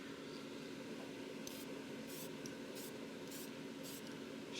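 Short bursts of a sandcarving blaster spraying abrasive onto stone, about half a dozen separate hissing sprays over a steady, fairly quiet background hum.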